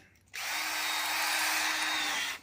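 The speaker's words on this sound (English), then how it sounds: "Grab my drill," A power drill whirs at high speed for about two seconds in a workshop, starting abruptly and stopping cleanly, loud and close.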